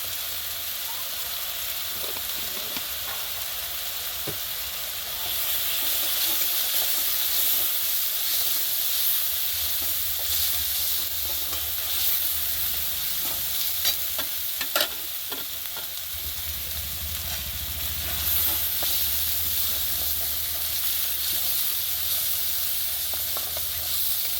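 Chili powder and ground spices frying and being stirred in hot oil while cooking eggs, a steady close sizzle and hiss with scraping stirs that swell louder partway through and continue without pause.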